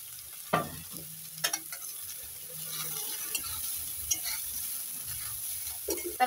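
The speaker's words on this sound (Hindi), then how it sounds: "गाजर को जो है मैं पहले तो घी के साथ अच्छे से फ्राई कर लूंगी।" Grated carrots fry in ghee under a soft steady sizzle, with a few sharp clinks and scrapes of stirring against the pan at uneven intervals, heard close.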